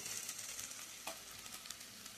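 Mustard paste goes into a pan of taro stolon, sizzling and frying up close while it is stirred, with a quick scrape partway through.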